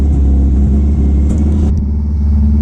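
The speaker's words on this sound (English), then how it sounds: "I'll just idle her for about 2-3 minutes, just on 2000 RPM, just to warm the engine nice and easy" A 1999 Subaru WRX hillclimb race car held at about 2000 RPM while warming up on 98 fuel, a loud, steady close-up engine drone with a slight dip partway through.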